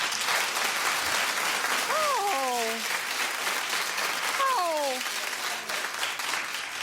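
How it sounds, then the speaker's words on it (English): Studio audience applause on a daytime talk show, a steady wash of clapping throughout with a voice speaking over it twice. "Okay, clap if you're with me and you forgive Chet."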